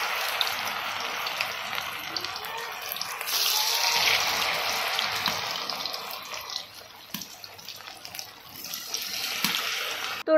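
Vadas, fried fritters, crackle and hiss steadily in hot white oil, a soft continuous sizzle with no talking.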